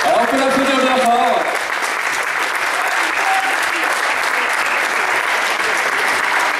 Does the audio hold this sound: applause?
yes